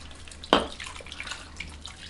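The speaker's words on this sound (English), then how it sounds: "I'm going to also add 1 cup of filtered water to this" One cup of filtered water splashes into a curried beef heart stew, a brief close pour that begins with a sudden gush and settles into faint trickling and drips.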